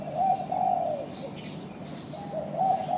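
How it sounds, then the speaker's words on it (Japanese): A spotted dove in a Bali hotel garden gives soft, close cooing phrases, a pair of rolling coos with a pause between, alone against faint outdoor ambience. "カノコバトというハトらしいです。"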